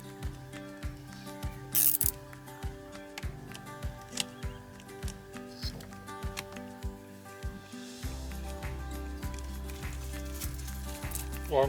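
Ratchet wrench with a long socket snugs nuts down onto alternator studs on a 2006 Ford Connect Visteon alternator, giving close, rhythmic clicking strokes in quick repeated bursts with no talking.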